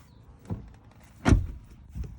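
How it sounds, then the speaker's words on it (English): Doors on a 2001 AU Ford Fairlane Ghia shut with a solid, close thunk, the loudest slam in the middle, with softer thuds before and after it against a quiet background. "Doors shut really well"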